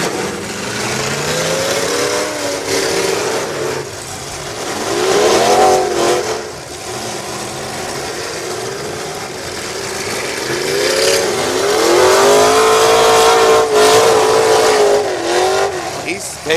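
A Ford two-door box-style race car on a dirt track, its engine revving and rising in pitch through repeated acceleration passes, with surging swells of engine noise under ongoing nearby chatter.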